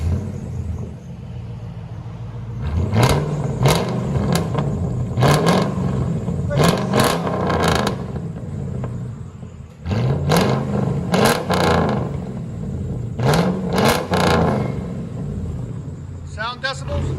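Mercury Grand Marquis with a 4.6L V8 and true dual exhaust through a Y pipe, revving in repeated sharp blips over a steady idle rumble, loud and close, with brief bursts of talk between.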